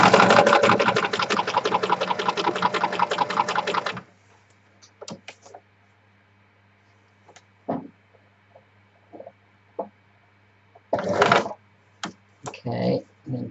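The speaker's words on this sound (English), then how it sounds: "all I'm going to do is machine sew that zigzag right round" A sewing machine runs a zigzag stitch around fabric edges: a fast, even, rapid mechanical chatter up close for about four seconds, then stops, followed by scattered faint handling knocks and clicks.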